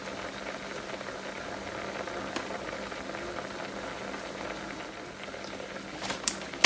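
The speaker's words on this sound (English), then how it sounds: "we're going to reduce this down to a simmer" A pot of quinoa with apple and banana bubbles steadily on the stove, a constant close simmering hiss with a few louder pops near the end.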